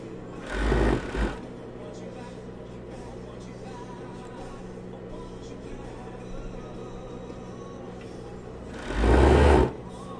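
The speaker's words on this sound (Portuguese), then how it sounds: "Porque a overlock, ela costuma a puxar o tecido de baixo." An overlock sewing machine stitching the side seams of a women's blouse, running in two short loud bursts near the start and end with a quiet steady hum between.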